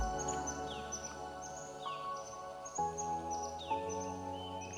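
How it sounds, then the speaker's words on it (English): An orange-bellied bird calls in a muddy forest during a rainy adventure at Nandhaur, with clear repeated chirps and whistled notes close by and a steady ambient background. "orange bellied bird."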